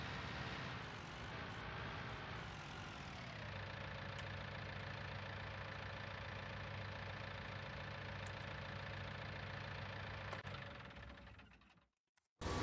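Tractor engine in Farming Simulator, a steady droning idle that shifts pitch once, then holds an even hum before cutting off abruptly near the end, with no talk.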